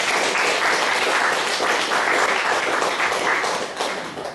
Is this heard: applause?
yes